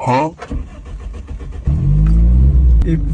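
A car engine turns over and settles into a steady, loud idle partway through, with people talking over the start.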